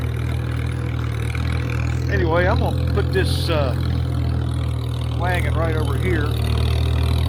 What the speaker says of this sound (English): I love the sound of that engine, the way the governor kicks in.